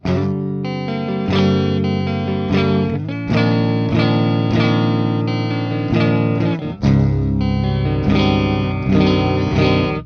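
A cheap Ibanez electric guitar with two humbuckers and a 5-way selector, played on the neck pickup through heavy distortion, chugging metal chords and riffs, loud and continuous with brief pauses.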